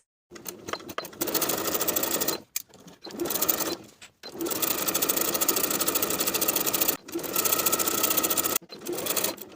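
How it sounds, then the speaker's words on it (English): A sewing machine stitches a coat seam from dot to dot at a 5/8 inch allowance, running in several steady bursts with short pauses between them. It is close and fairly loud, with no voices. "we're going to sew from dot to dot with the same 5/8 inch seam allowance"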